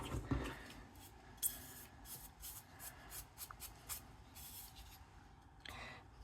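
Paper pressed and rubbed by hand onto sticky adhesive on a Christmas tree decoration, soft close crinkling and brushing strokes in uneven bursts, quiet and without talking.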